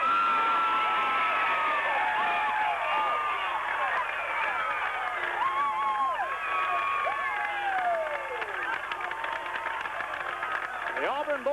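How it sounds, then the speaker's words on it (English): A high school football crowd roars and cheers at the final whistle of a close 8-7 homecoming win, sustained and dense with whoops and shouts, broad stadium noise carrying steadily throughout. "Listen to the crowd."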